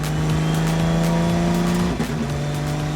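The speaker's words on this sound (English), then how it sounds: "but fastest one I have is the MR2, Toyota MR2 that you see here." A hand-built turbo V6 Toyota MR2 race car, a modified production car, runs loud and steady with a sustained engine drone and a brief dip in pitch near the end, with no talk over it.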